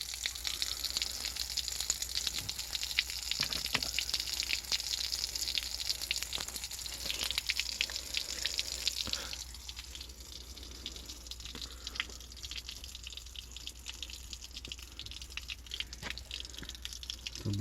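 Water leaking under a mobile home and overflowing across the ground makes a soft, steady trickling and splashing with faint drips, quiet and continuous.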